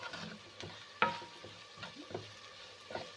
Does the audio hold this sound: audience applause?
no